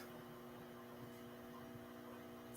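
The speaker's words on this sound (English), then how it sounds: "Y'all hear my microwave? Sounds like it wants to go out on me here." A microwave oven that seems close to failing gives off a steady electrical hum with a faint buzzing edge, running evenly and close by with no talk over it.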